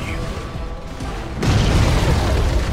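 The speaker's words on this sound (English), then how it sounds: "Radiant's middle tower has fallen." A tower is destroyed in the video game Dota 2, setting off a sudden loud boom partway through that swells into a sustained rumbling crash over the game's ambient noise.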